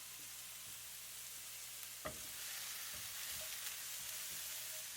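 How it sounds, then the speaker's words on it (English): Garlic and mushrooms fry in a pan with a faint, steady sizzle, broken by a sharp utensil knock and a few soft stirring scrapes, with no voices. "So now we put the garlic in. We're gonna let it cook for about another minute. We got our mushrooms still cooking."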